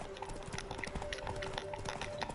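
A horse galloping in The Witcher 3, fast steady hoofbeats clopping rhythmically throughout, close and moderately loud over a faint background tone.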